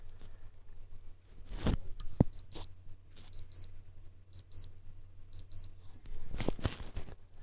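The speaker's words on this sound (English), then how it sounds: "when I long press this button down the bottom right hand corner, is the watch beeping just as a test" A Casio AQ-S810W wristwatch alarm sounds a test pattern of short, high, electronic double beeps, repeated in several quick bursts close to the listener, with some handling rustle before and after.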